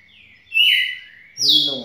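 A red-cowled cardinal, a prize-winning songbird, gives two clear whistled song phrases, close and loud, with a short gap between them and quiet surroundings.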